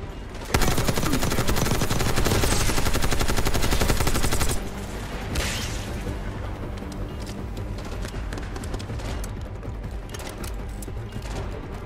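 Sustained machine gun fire in Call of Duty: Black Ops 6, a dense, loud burst of rapid shots for several seconds that then drops to a lower, continuing rattle of gunfire mixed with game noise.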